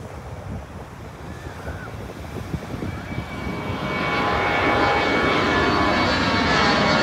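A low-flying airplane comes in to land over Mai Khao beach in Phuket, its jet roar swelling loud in the second half above steady surf and wind.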